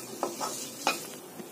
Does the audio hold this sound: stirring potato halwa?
yes